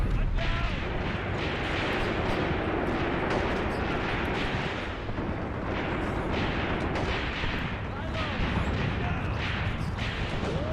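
Tank guns boom repeatedly over rumbling battle noise in a World War II North Africa tank combat video game set at El Guettar, Tunisia, dense and continuous, with voices shouting at times.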